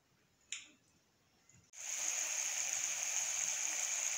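Kuzhambu, a tamarind curry, in a pot: after a brief clink and quiet, a steady close hiss of bubbling and sizzling starts abruptly and continues evenly.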